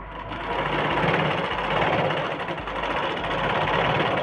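A sewing machine runs a double line of stitching along a blouse seam with a fast, steady mechanical whir and rattle, close and continuous after a brief start.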